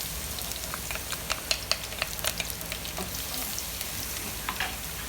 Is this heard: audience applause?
no